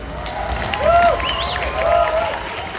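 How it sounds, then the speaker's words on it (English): An audience at an EGX 2023 convention panel claps and cheers, a loud burst of crowd noise with whoops and voices rising over the applause, swelling twice before easing. "A huge clap."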